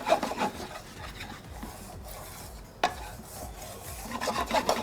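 Semolina roasting in a pan while a spoon stirs it, making a soft dry scraping and rasping with a sharper scrape near the middle, fairly quiet and heard alone.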